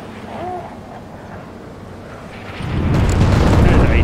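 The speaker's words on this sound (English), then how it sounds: "There's a danger close fire mission there" Artillery explosions in the tank game Gunner, Heat PC: a low, rumbling boom swells and lingers near the end, preceded by quieter distant rumble, with no talking over it.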